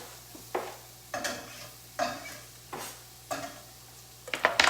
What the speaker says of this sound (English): throw our garlic, it's 4 tablespoons, into our pan